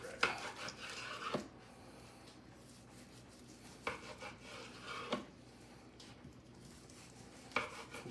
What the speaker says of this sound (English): I'm just going to take and slice it down.